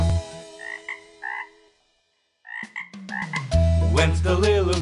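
A cartoon frog in a children's nursery rhyme croaks in several bright, bouncy bursts with a pause between them, set against a light musical backing.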